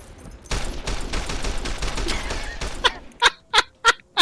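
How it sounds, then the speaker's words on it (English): Gunfire in the video game Fallout New Vegas: a rapid fusillade of shots for about two seconds, then a few separate loud sharp blasts spaced out at the end, with no talk. "I think they're shooting at the guy running away."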